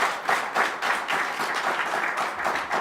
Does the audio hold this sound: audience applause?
yes